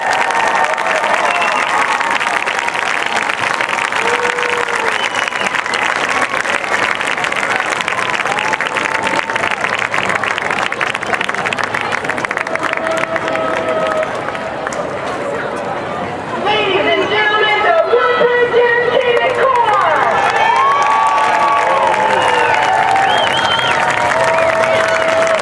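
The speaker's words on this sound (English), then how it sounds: "clap, everyone. Nice work." A stadium crowd at a high school football game claps and cheers after the Woodbridge band's halftime show, a loud, sustained roar of applause with crowd noise throughout and brief whistles and shouts rising over it near the end.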